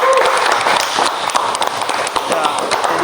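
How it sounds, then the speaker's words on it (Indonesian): A classroom of students claps briefly for a teacher's lesson on electrical installations, a quick burst of fairly close, even clapping with faint voices underneath. "beri tepuk tangan dulu ya"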